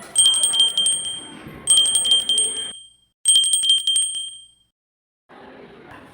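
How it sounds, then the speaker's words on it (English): A small bell rings in a classroom sound activity, giving bright repeated metallic dings in three separate bursts, each fading out before a quiet gap, with faint room noise returning at the end. "Bell."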